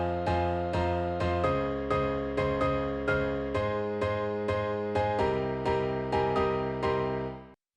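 Progressive house melody, chords and bass line, rhythmic stabs pulsing evenly on each beat with a full low end, then cutting off abruptly at the end. No talking.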